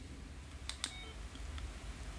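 Keypad button beeps on an iRadio DM-UV4R handheld radio, two quick close tones followed by a fainter third, alone over quiet room hiss.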